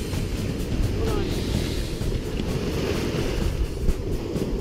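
Waves break and wash continuously along a beach in Destin during night surf fishing, a broad, steady roar mixed with wind buffeting the microphone.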